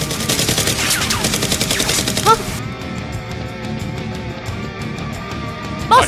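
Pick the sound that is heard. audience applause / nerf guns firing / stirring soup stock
nerf guns firing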